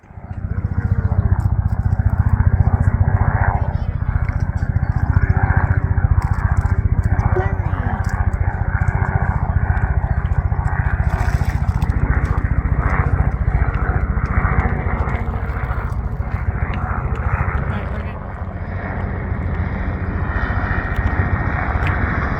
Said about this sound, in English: That's the Barton helicopter.